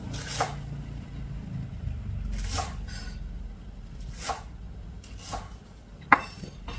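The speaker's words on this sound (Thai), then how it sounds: "หั่นในส่วนโคนออกนะคะ เพราะว่าส่วนโคนมันแข็งนะคะ ทานไม่ได้ แล้วก็หั่นท่อนค่ะ" Knife chopping garlic chives on a cutting board, a handful of sharp, evenly spaced cuts roughly one per second, close and clear, over a low steady kitchen background hum.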